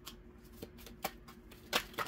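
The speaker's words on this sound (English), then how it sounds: "I don't know what kind of shuffling I be doing, y'all." Tarot cards being shuffled by hand, a few quick riffling bursts and soft slaps spaced irregularly, close and fairly quiet with no talking.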